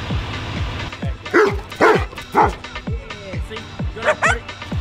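A dog gives a string of sharp barks and yips, fairly close and loud, in bursts over a low rumble of engine or road noise.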